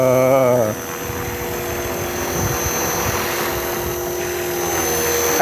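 A Walkera V450D03 RC helicopter hovers inverted with a steady, close, high-pitched rotor and motor whine, after a brief higher tone at the start, continuing evenly with no talking.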